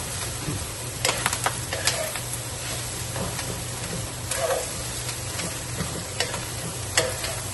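Pork being sautéed with ginger in a pan for sisig: a steady, close sizzle and fry with intermittent clicks and scrapes of a utensil stirring the meat, and no voices.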